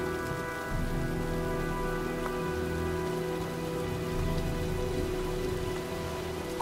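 Steady rain pours down in the video game Heavy Rain as a storm approaches, a continuous dense hiss of drops on surfaces with low, droning tones running underneath throughout.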